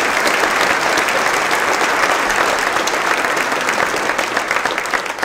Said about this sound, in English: I ask that we give a round of applause to our sponsors